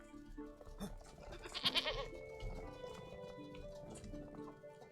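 Sheep bleat in the farming game Medieval Dynasty, with a cluster of fairly loud, wavering cries near the middle over steady game background sound.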